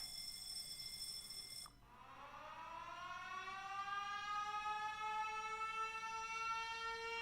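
After a brief steady buzzing tone cuts off, a siren alarm in Factorio winds up, its pitch rising smoothly and then holding as a loud, sustained wail with no talking.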